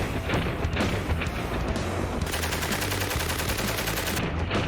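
A water-cooled Maxim machine gun fires in rapid sustained bursts, loud and close, with a rattling stream of shots and a sharp cutoff near the end.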